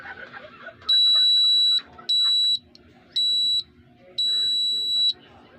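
A small buzzer on an LDR sensor module project gives four shrill electronic beeps of uneven length, loud and close, over a low background hum and some faint speech.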